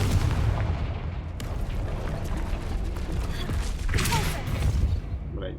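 A Confringo blast spell goes off in Hogwarts Legacy, a dense rumbling explosive roar that fills the whole stretch, with a brighter burst near the end.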